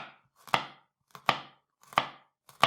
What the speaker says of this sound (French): Je vais aussi tailler l'ail